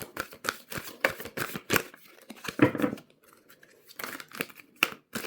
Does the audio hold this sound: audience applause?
no